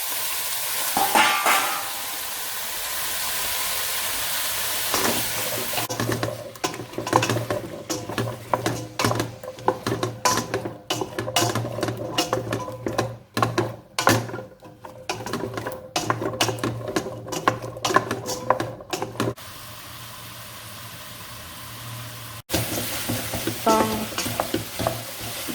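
Sweet potatoes and carrots dropped into hot olive oil in a shallow pan, giving a loud, dense crackling sizzle that surges and sputters unevenly, with bursts of popping and a few stirring clatters.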